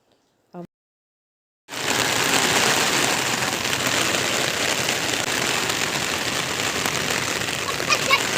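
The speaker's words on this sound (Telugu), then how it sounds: "వర్షం ఇంకొంచెం పెరిగిపోయింది." Heavy rain pours onto a flooded road in a steady, loud hiss. A brief voice is heard just before the downpour suddenly comes in.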